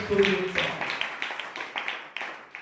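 An audience claps along during a Telugu church sermon, a run of fairly even, moderately loud claps in a steady rhythm, with a preacher's voice over the start.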